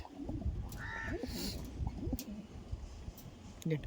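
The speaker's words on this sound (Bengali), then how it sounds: "দেখো এটা হচ্ছে মেল পায়রা, এই দেখুন এখনই ডাক দিচ্ছে" Low, throaty coos of a male Andhra pigeon rise and fall repeatedly nearby, mixed with rustling and a brief bird call amid quiet talk.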